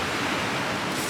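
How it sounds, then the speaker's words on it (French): Ocean surf breaking on the beach beside a seaside bungalow at Amed, Bali, heard as a steady, loud, broadband wash of noise with no distinct individual wave crests and no talk. "ici, vous dormez avec le bruit des vagues"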